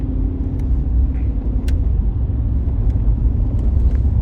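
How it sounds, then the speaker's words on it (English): Car driving on the road from Merritt Island toward Cocoa, Florida, a steady low rumble of engine and tyres heard from inside the vehicle, constant throughout with a few faint clicks over it. "we're about to drive into Cocoa"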